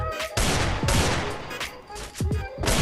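Rapid bursts of gunfire in a shooting video game, loud crackling volleys that start and stop in quick succession, with short gaps between the bursts.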